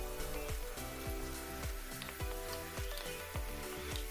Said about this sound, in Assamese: কেঁচা গোন্ধ নোযোৱালৈকে আমি ভালদৰে ভাজিম।